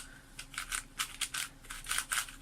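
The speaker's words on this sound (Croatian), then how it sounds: "A čujete onako kao koliko je suva trenutno." A dry, unlubricated Moyu speed cube is turned in a quick series of short, scratchy plastic clicks and rasps, about a dozen close, crisp bursts in irregular rhythm.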